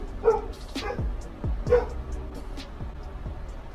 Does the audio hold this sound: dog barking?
yes